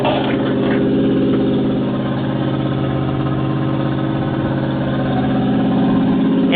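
A 1974 Buick Regal sedan's 350 V8, with a newly replaced fuel pump, runs steadily at a loud, close idle with a deep, even rumble throughout and no talking.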